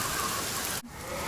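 Heavy cartoon rain pours down in a dense, steady hiss that briefly dips for a moment before resuming, with no voices.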